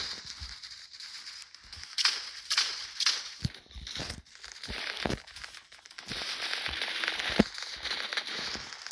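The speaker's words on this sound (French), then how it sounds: "Ah, ça lance grenade." A grenade launcher fires in the shooter game X Shot, giving several sharp, punchy bursts over a faint crackling, debris-like background at moderate volume.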